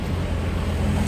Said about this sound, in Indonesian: truk sawit bosku